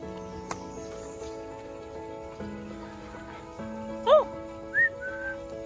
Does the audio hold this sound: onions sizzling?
no